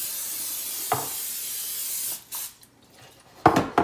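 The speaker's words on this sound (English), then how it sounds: "Now I'm going to spray it with some pan cooking spray." Short hissing bursts of aerosol cooking spray into a cake pan, a couple of quick spritzes followed by a longer, louder spray, with quiet gaps between.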